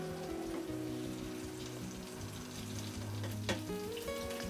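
Butter melts in a heated karai on a stovetop, giving a steady, close crackling sizzle with faint pops and a brief clink of a utensil, no speech.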